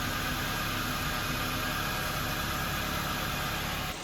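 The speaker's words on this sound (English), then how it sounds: "we're gonna leave the engine running for at least 3 minutes now" A Honda Fit engine idles steadily and close after an oil change, as an even hum and hiss that stays the same throughout, with no talk.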